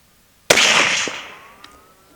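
A single rifle shot from 6.5 Grendel ammunition, Palmetto State Armory rounds, fired outdoors: one sharp, loud crack followed by a decaying rumble of echo.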